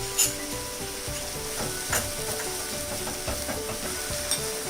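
Ginger garlic paste sizzles steadily in a hot pan for a chicken curry, a dense, constant frying hiss with a few soft stirring scrapes and clicks, close and alone.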